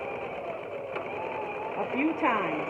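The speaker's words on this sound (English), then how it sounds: "put my presser foot down, and I'm going to do a small zigzag stitch" A home sewing machine running a small zigzag stitch to secure elastic on ruffled ribbon tutu socks, a steady close mechanical whir that continues under a voice.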